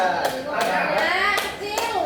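Students in a microteaching classroom clap together in a few quick bursts, close and fairly loud, while voices and chatter carry on underneath.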